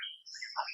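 A bird at dawn near a Tamil Nadu check post gives a quick pair of clear, high chirps, close and fairly soft, in an otherwise quiet moment.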